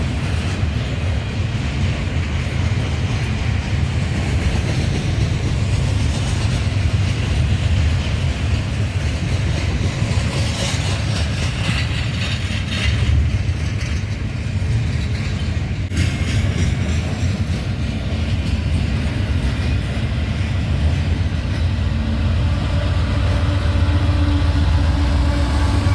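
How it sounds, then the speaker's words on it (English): A Union Pacific intermodal freight train passes in Rochelle, Illinois, led by a Dash 9 and AC4400 locomotives, with worn AC44CW CTE units on the rear; a loud, steady roar of rumbling wheels and clattering cars fills the whole span. "On the rear of the intermodal train were two worn AC 44 CW CTE locomotives"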